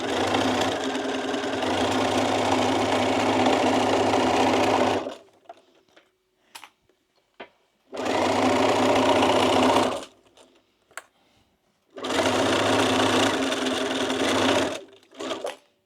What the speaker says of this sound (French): Ici, on est parti pour la couture.